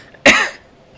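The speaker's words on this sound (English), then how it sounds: "I say that as I have to cough, of course." A single short, sharp cough from a streamer close to the microphone, one abrupt burst lasting about a third of a second followed by quiet.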